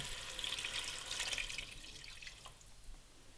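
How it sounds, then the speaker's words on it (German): Beef stock poured from a container into a goulash pot, a steady, splashy liquid pour that trails off toward the end, alone and fairly quiet. "So, und dann gieße ich mit meinem Rinderfond auf."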